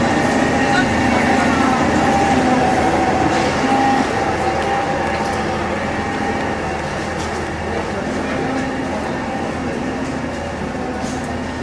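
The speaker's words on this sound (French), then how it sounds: "on va se balader un petit tour en tram" Tram ride at Walt Disney Studios Paris: a steady, loud rolling rumble of the tram cars with faint rail clatter and the hum of a crowd, voices mixed in throughout.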